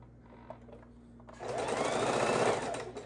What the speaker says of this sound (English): we'll sew this one together